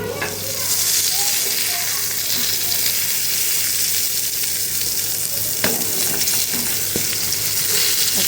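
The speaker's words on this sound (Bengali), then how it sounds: "আর এখানে বেগুনগুলো ভাজতেছি" Eggplant slices fry in a pan with a loud, steady, close sizzle that fills the whole stretch, broken by a few faint clinks of utensils.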